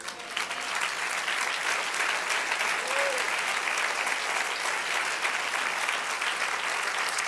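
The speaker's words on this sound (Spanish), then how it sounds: "Denle un aplauso al Señor." Church congregation applauding steadily for about seven seconds, a dense, even clapping that fills the sanctuary with no pauses and a few faint voices mixed in.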